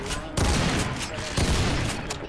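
Rapid gunfire bursts in Half-Life Black Mesa, several loud clustered shots at irregular intervals, with faint voice traces underneath.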